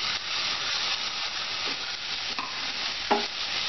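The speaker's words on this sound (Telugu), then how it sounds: "ఇప్పుడు మనం టమాటాలు కూడా వేసుకుందాం" Chopped tomatoes frying with chana dal and onion, a steady close sizzle broken by occasional spatula scrapes and clinks against the pan.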